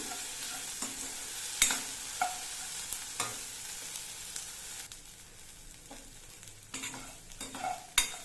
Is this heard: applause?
no